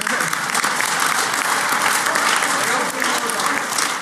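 Audience applause at the Black Hat 2017 Pwnie Awards ceremony, a dense, steady roar of many hands clapping that holds evenly for the full four seconds with no talk over it.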